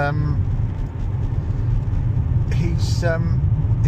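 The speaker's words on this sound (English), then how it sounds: "that's a good engine he's got in that car" A car engine idles steadily on a Nottingham street, a low continuous rumble running throughout while someone talks briefly over it.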